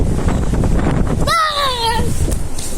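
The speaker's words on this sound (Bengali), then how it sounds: "কি বাতাস, দেখছেন কি বাতাস।" Strong storm wind roars against the microphone in a rain-soaked Dhaka street, a dense continuous rush with a short wailing tone cutting through midway.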